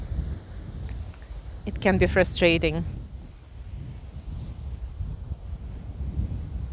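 Wind buffets the microphone on Brighton Beach at Coney Island, a steady low rumble across the whole stretch, with a person speaking briefly over it.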